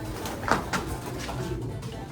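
A racing pigeon coos softly a few times, low and throaty, against a quiet background with faint knocks.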